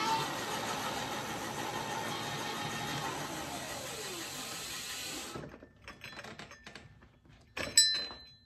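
An electric bike's hub motor spins its lifted rear tire on throttle, a steady whirring drone that holds for several seconds, then cuts out and falls to a quiet coast-down with a brief clink near the end.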